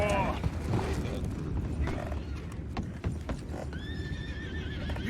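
Horses whinny and neigh amid clip-clopping hooves in the video game Red Dead Redemption 2, a busy outdoor scene with a rumbling, dense background; a high neigh rises near the end.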